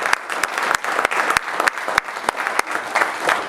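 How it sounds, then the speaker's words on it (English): Audience applause breaks out at a Holi 2016 guest introduction, dense and steady clapping with sharp individual claps standing out, sustained throughout with no speech over it. "Please give a round of applause to Sharmi."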